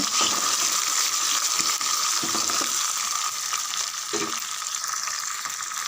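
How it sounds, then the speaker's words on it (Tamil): Four ripe chopped tomatoes sauté in a hot pan for a Tamil tomato rice, giving a steady close sizzle with scraping stirs and occasional clinks throughout. "ஒரு ரெண்டு நிமிஷம் நல்லா வதங்கட்டும்"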